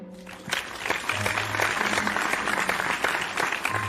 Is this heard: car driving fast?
no